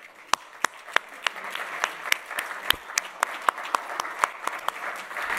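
Conference audience at a Bitcoin event in London applauds as panelists walk on stage: a moderate crowd clapping, with several loud, sharp claps close by popping out at a quick, uneven rhythm.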